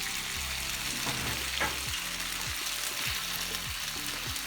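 Chicken breast sizzling loudly in a hot pan, with a constant crackle and several scraping stirs against the pan.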